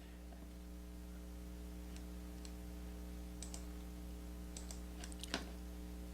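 A few light computer mouse clicks while clicking on a shopping cart, faint and scattered over a steady electrical hum, with one slightly sharper click near the end and no talking.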